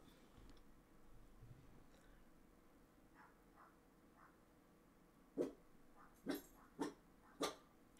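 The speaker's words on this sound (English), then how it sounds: "Hey, stop barking." A dog barks five times in quick succession near the end, loud and close, after several seconds of faint whimpering and low room noise.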